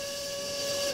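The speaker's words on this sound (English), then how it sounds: "You didn't just blow the whistle, did you?" A ship's steam whistle sounds in a Titanic video game, one loud, steady, sustained tone with breathy hiss around it, holding for about a second before cutting off.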